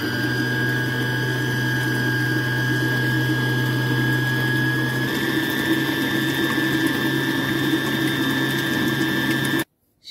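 A kneading machine works potato poğaça dough with a steady motor whine and churning hum, its pitch shifting slightly midway, then cuts off abruptly into silence at the very end.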